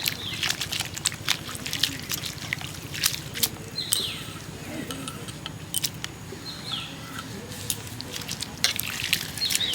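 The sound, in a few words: washing grated raw papaya in a basin of water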